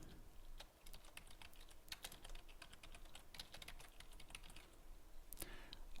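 Someone types on a computer keyboard while entering transactions into a general journal, a quiet, close run of irregular key clicks with a few louder taps and no talking.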